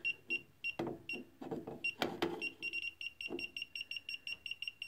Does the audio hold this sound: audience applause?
no